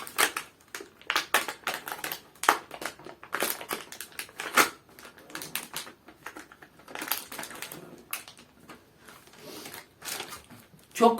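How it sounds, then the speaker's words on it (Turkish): A knife slices through a packaged çiğ köfte from a Turkish supermarket, giving a series of close, crisp crunching and crinkling cuts in irregular bursts, with no talking. "bir tarafından hafifçe kesiyorum. Daha sonra bunu aynı şekilde kesiyorum."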